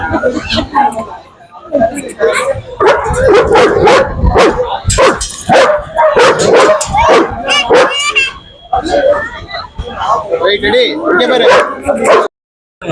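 Dogs at a dog show in Thanjavur bark and yip repeatedly in loud, close bursts, with some whimpering mixed in, while people talk nearby throughout.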